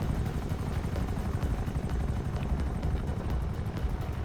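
A helicopter in GTA 5 flying nearby, its dense rotor thrum and engine roar filling the space continuously and loudly with no pauses.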